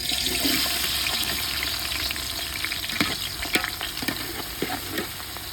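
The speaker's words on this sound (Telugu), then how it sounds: "దూరంగా వేయించుదాం, గోల్డెన్ బ్రౌన్ కలర్ వచ్చే వరకు" Sliced onions sizzle steadily in hot oil in a village-style kitchen for prawn biryani, a continuous dense frying hiss with occasional crackles and a few stirring clinks.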